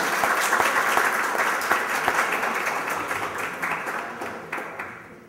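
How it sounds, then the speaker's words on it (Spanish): Lecture hall audience at a philosophy course gives a sustained round of applause, many hands clapping together and gradually thinning and fading toward the end. "Muchas gracias, un aplauso."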